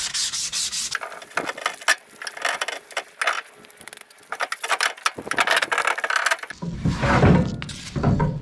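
A part on a budget build is polished by hand, with repeated scrubbing rubbing strokes in quick bursts, close and fairly loud, ending in a louder stretch of friction.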